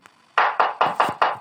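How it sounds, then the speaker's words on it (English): Five loud, evenly spaced knocks on a door rap out in quick succession after a brief quiet start, alone with no voices. "They knocked and knocked until a window opened upstairs"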